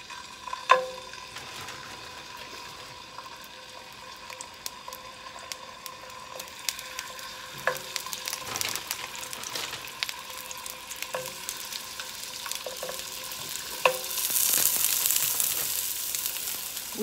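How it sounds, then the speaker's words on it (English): Frozen potstickers sizzle and fry in hot oil in a pan, a steady crackling hiss with scattered pops that grows slightly louder toward the end. "now we're going to add our frozen dumplings in"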